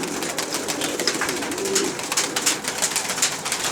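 Domestic pigeons at a loft coo repeatedly during a flight session, soft throaty calls layered over a steady busy background with brief higher chirps, close and continuous with no talking.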